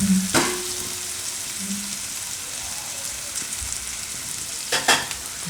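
Garlic fries in oil in a pan for a tomato and green garlic chutney, giving a steady soft sizzle with a few sharp utensil clinks near the start and end, with no talking.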